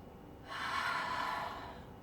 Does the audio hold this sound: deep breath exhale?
yes